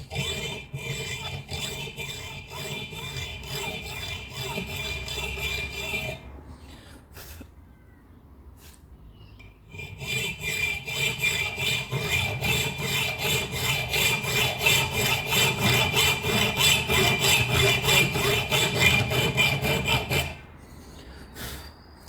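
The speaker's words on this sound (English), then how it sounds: "Guess we'll see how good my sawing is." A hacksaw rasps through a metal barrel in steady back-and-forth strokes, pausing briefly midway, then resuming with a long run of loud, rhythmic sawing.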